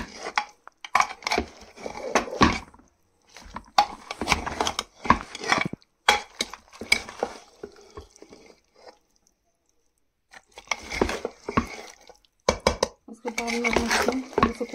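Spiced mutton for rogan josh being mixed in a cooking pot, with bursts of metal spoon scraping and clanking against the pot in separate rhythmic bouts broken by short pauses, close and fairly loud.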